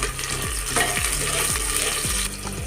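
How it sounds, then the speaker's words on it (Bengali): Dry red chillies, garlic cloves, green chillies, chopped onion and panch phoron fry lightly in oil, a loud close sizzle with rhythmic spatula scrapes roughly every half second against the pan. "একটু হালকা করে ভেজে নেব"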